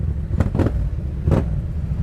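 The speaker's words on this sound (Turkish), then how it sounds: "bu Yoshimura güzel bağırıyormuş ha" Yamaha MT-07 motorcycle fitted with a Yoshimura exhaust, heard in traffic, blipping its throttle in three quick sharp bursts over a constant low engine rumble, fairly close.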